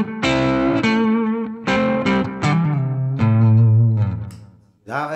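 Electric guitar through a short delay pedal on a pedalboard, a series of loud strummed chords and sustained notes with echoing repeats, close and alone without talk.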